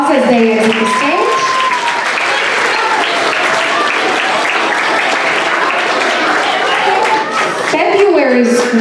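At a school assembly, the audience applauds steadily as students leave the stage, a loud, even spread of clapping with some cheering voices on top, running for the full stretch.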